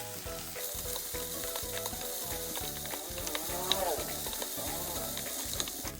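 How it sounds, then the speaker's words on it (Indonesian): Loud, close sizzling and crackling of red chili and scallions stir-frying in a hot pan until wilted, with rhythmic scraping of a utensil stirring throughout. "Lalu ini kita tumis hingga layu."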